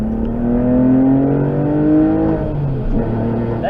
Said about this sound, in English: I was actually about third gear there. And just rolling the throttle.